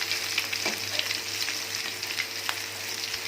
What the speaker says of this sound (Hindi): देखें माशाल्लाह बहुत ही ज़बरदस्त फ्राई हो रहे हैं।